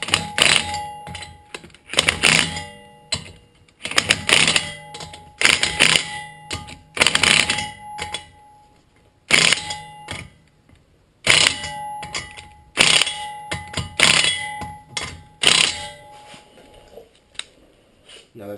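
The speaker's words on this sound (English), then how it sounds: "we'll be using that to tighten the lug nuts" Lug nuts on a 2008 Infiniti G37 are tightened with a torque-limiting extension, giving close, sharp repeated metallic clacks and ratcheting bursts in quick clusters with brief pauses between them.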